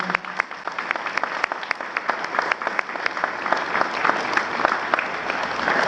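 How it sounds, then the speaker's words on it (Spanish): Sustained welcoming applause from an audience greeting the Cuban ambassador at a Toronto–Cuba friendship day gathering, steady dense clapping lasting throughout at moderate loudness with no talk over it. "para quien pido un fuerte aplauso de bienvenida"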